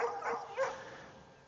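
Sled dogs bark and yip in a short close burst of two or three excited calls, fading quickly into a whine.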